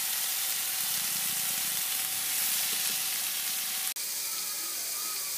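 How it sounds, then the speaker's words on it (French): Tuna stuffing for batbouts stirred in a pan, giving a steady close sizzle with soft scraping and no talk. "Mélanger l'ensemble."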